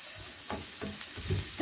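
Ground five spice of fennel, cinnamon, black pepper, cloves and anise frying in a pan for a vegan aubergine curry, a close hiss of sizzling with a few scraping stir strokes, no voices.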